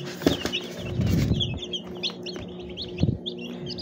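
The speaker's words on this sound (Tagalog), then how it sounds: "marami na tayong sisiw" Freshly hatched chicks from a manual incubator cheeping in a small flock, rapid high peeps repeating throughout, with handling thumps and rustling close by.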